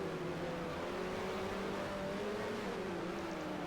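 Engine whine of a 1974 Formula 1 car in the racing game F1 Challenge 1974, a steady droning tone that shifts pitch slightly as the rival car overtakes, faint and continuous.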